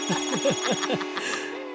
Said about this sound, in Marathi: आला पोपटलालचा फोन आला